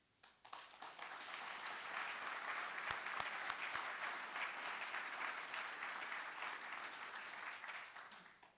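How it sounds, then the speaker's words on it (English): A large crowd at an annual meeting applauds veterans with sustained, dense clapping that swells quickly, holds steady for several seconds and tapers off, heard from a distance in a big room. "let's give them another clap of hands"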